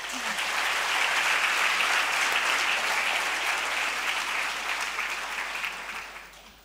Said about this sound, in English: Can we do another quick round of applause?